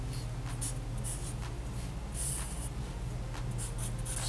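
Pencil sketching on paper while drawing a person lying on their belly: a steady run of light scratchy strokes with brief brighter bursts over a constant low background hum, no talking.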